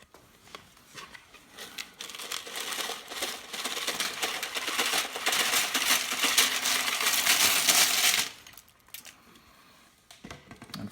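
Shredded aluminum bits rolled up in a paper towel make a dense, continuous crinkling and rattling that builds steadily over about eight seconds, then stops abruptly, leaving only faint handling noise.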